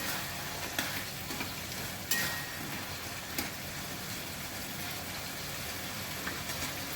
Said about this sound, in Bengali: এবার আমি চিংড়ি মাছগুলো দিয়ে দেবো চিংড়ি মাছগুলো মিশিয়ে দিচ্ছি